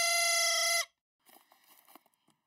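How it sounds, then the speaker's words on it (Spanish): A toy horn gives one bright, buzzy blast lasting under a second, followed by faint rustling and small handling sounds. "Por ejemplo, esta corneta."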